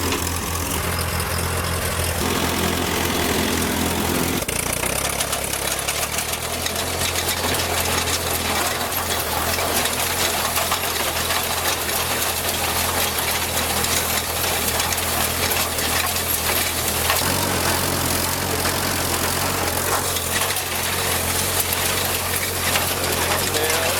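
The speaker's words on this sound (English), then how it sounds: "Let's see if we can make some hay." A Ford 8N tractor runs steadily while cutting hay with a New Holland haybine, a constant loud engine drone mixed with clattering mower machinery throughout.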